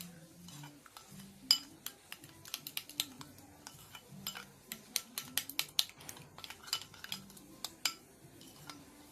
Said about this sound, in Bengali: সামান্য পরিমাণে আমি জল দিয়েছি, ভালো করে ফেটিয়ে নিতে হবে।